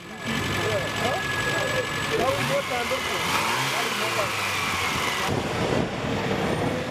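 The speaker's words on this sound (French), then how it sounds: "Les moteurs chauffés." Vintage cars, including a Citroën Traction 11 BL, run their engines while warming up before a classic-car rally in Senegal, a steady idling rumble with crowd chatter and voices throughout.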